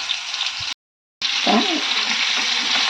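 Masala-coated mackerel fries in hot oil with a steady close sizzle, broken by a brief silent gap before the frying resumes, louder and bubbling.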